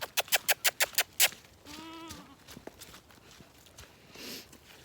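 Goats on a homestead, with a quick run of about eight sharp, evenly spaced calls up front, then a wavering bleat-like cry and quieter rustling and scattered movement, faint and fairly close.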